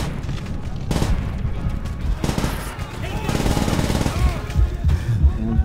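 Rapid gunfire aimed at the player in the video game Call of Duty: World at War, dense bursts of automatic shots with booming impacts, loud and continuous, with a voice talking over it.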